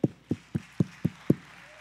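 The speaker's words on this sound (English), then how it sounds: "Put your hands together with me." A church congregation at a Pentecostal service claps in time, six sharp, evenly spaced claps about a quarter second apart, close and clear.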